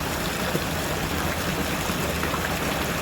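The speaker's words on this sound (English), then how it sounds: "You can feel the water splashing on me." Water splashes outdoors in an open space opposite Southampton's Guildhall, a loud, steady rushing spatter that carries on without pause.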